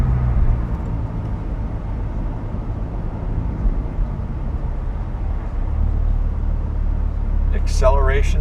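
A Lamborghini Huracan Spyder rolls along with a deep, steady exhaust rumble from inside the car that swells a little near the end, with a brief voice at the close.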